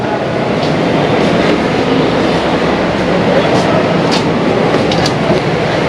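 Shalimar Express passenger train in motion, heard from inside an economy class coach as a loud, continuous rumble with rhythmic wheel clatter and occasional metallic clicks.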